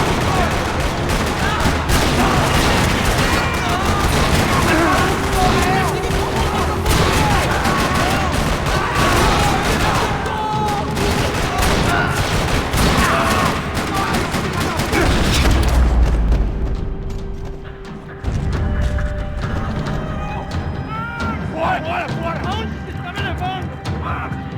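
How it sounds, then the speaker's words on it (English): Dense gunfire rattles through a parking lot in the Max Payne 3 video game, with rapid overlapping shots, bursts and heavy booms at a constant loud level, and voices mixed in. "Another parking lot rattling with gunfire."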